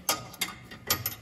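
Washer going onto a John Deere S170 mower deck spindle, with a few short metallic clicks and scrapes close by, two pairs of quick taps separated by a brief pause.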